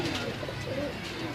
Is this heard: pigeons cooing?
yes